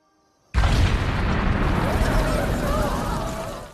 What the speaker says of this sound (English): the explosion created a hole